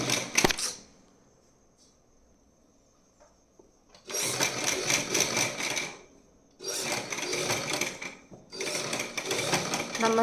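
Sewing machine stitching a keyhole neckline in fabric, a short whir at the start, then a pause, followed by two longer runs of fast rattling stitching, loud and close.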